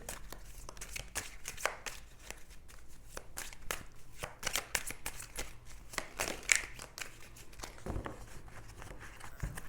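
Tarot cards shuffled by hand before a reading, a steady run of quick papery riffles and soft slaps, close and moderately loud, with no talking.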